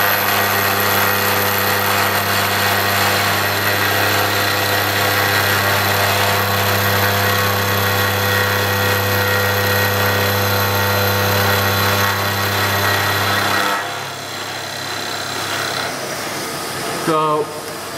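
A metal lathe in a home workshop running rapid traverse and then cutting, with a loud steady mechanical whine and hum that shifts pitch and drops near the end, followed by a short rattling burst, close to the machine.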